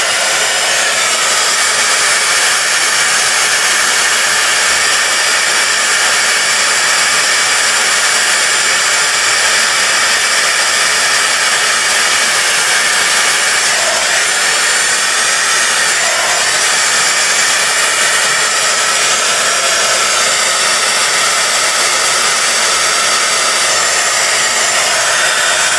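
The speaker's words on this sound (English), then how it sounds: "And then take your heat gun and just heat that up." A heat gun runs continuously for nearly half a minute, heating embossing powder on a handmade card; a loud, steady blowing roar like a hair dryer, close and alone with no talk.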